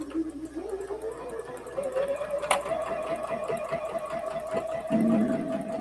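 A sewing machine stitches fabric pieces together, a steady close mechanical whir with a rising motor tone and a brief sharp click midway, then a short lower burst near the end.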